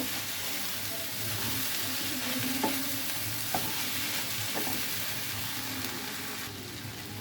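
Kalmi (water spinach) greens frying in a pan with turmeric are stirred, giving a steady, close sizzle with soft scraping of the spoon and a few faint clinks throughout.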